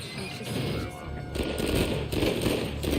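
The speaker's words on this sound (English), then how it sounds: "There's gunfire." Gunfire in the video game Uncharted 4, dense crackling bursts and crashing impacts layered over a loud game soundscape, continuous and close.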